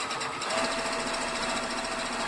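A sewing machine runs steadily, stitching a quarter-inch seam through quilt binding at the quilt's edge, a continuous close whirring hum with rapid needle rhythm and no talking.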